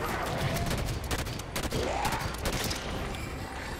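Sustained automatic gunfire from Halo 5: Guardians rattles in dense, overlapping bursts that stay loud and continuous throughout, with a couple of sharper shots standing out.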